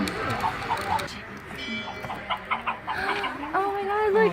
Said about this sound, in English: You press this button and it feeds the chicken.